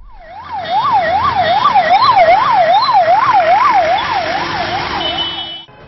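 An ambulance siren wails loud and close in city traffic on a Hyderabad road, rising and falling in a fast, regular cycle for several seconds before cutting off abruptly.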